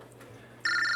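A phone rings abruptly in the second half, a loud electronic ringtone with bright sustained tones that cut in after a quieter stretch of room noise.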